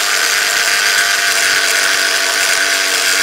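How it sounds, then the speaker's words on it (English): A power tool fitted with a thick cutoff disc grinds steadily through metal at close range, a loud, continuous high-pitched whine that stays constant without breaks or voices. "Crappy part is all we have are the super thick cutoff disc."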